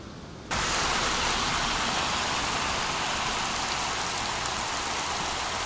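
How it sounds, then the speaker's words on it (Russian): Heavy tropical downpour at a roadside bus stop in Colombia, a dense steady roar of rain that bursts in abruptly after a quiet moment and continues loud and unbroken. "здесь такой ливень начался конкретный."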